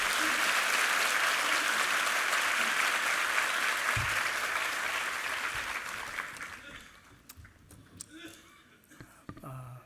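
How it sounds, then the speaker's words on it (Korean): Church congregation applauding at a Sunday worship service to welcome the pastor, a dense, loud wash of clapping that holds steady and then thins out and fades over the last few seconds into scattered claps. "우리 김학진 목사님을 박수로 환영해 주십시오"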